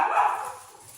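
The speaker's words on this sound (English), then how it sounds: "Sorry about my dogs." A household dog gives a single short bark or yip somewhere in the house, slightly distant and fading quickly, with no talk.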